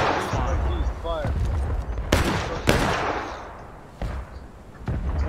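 Musket volleys crack out in War of Rights, a Civil War era game: several sharp, loud reports at irregular intervals sit over a steady battlefield din, with a voice shouting and talking underneath.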